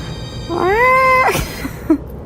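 A person's voice imitates a crazy cat, drawing out one rising, whining meow that ends abruptly, followed by a faint short sound.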